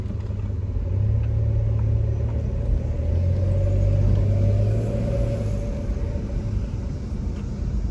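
A 1997 Dodge Grand Caravan minivan drives along a neighborhood street, its steady low engine rumble and road noise continuous and close for the whole stretch, swelling slightly midway with a brief engine hum.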